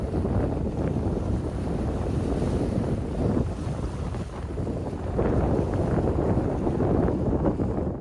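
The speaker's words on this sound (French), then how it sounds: "il y a un peu de vent aujourd'hui" Steady wind gusts buffet the microphone during an outdoor evening walk, a loud continuous rumbling roar that swells and eases without any talking.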